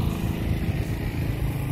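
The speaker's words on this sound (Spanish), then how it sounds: "Ando aquí los amigos aquí que van en una moto" A motorcycle ridden by a group of friends through a residential street, its engine a loud, steady close-up putter with a continuous buzzing drone and no break.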